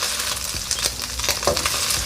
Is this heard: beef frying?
yes